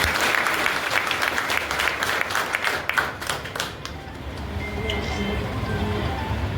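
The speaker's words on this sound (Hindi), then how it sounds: "उनके लिए तालियां।" Applause from an audience at a Bahujan Samaj Party political gathering, loud and sustained at first, thinning toward the end, with a murmur of crowd noise under it.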